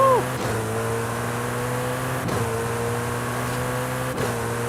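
Car in Forza Horizon 5 accelerating hard toward 300 mph, a steady engine drone with rising whine and sharp gear-shift sweeps every couple of seconds.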